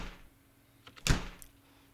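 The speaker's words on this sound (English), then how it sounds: "This is a door slam." A library door-slam sound effect: a single solid thunk, preceded by faint latch clicks over a quiet background.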